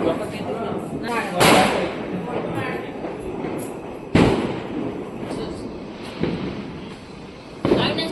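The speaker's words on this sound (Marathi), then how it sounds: "फटाक्यांची आतिषबाजी करून टाकू आपण" Firecrackers pop in a few sharp bangs spaced seconds apart during a Diwali Lakshmi Puja celebration, with people talking and general outdoor bustle in between.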